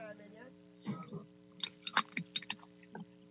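A person loudly chewing crunchy potato chips close to a microphone during a live talk show, giving a run of sharp, irregular crunches over a faint steady hum and background noise.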